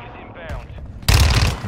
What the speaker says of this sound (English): Mortar on us.